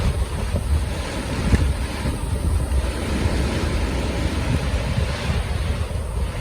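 Floodwater rushing through the fully opened gates of the Iranaimadu reservoir, a steady, loud broadband roar with wind buffeting the microphone throughout and no voices.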